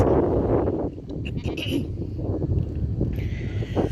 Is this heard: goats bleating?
yes